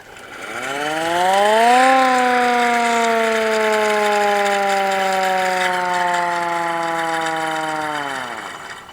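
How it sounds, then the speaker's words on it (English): A hand-crank siren on a 1917 Ford Model T fire engine winds up to a loud, steady wail, holds it for several seconds, then winds back down. No voices. "it's a hand crank siren. It actually works."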